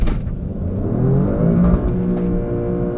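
Alfa Romeo Stelvio Quadrifoglio SUV with 510 horsepower launching in race mode, its engine revving hard and climbing in pitch, loud and close from inside the cabin.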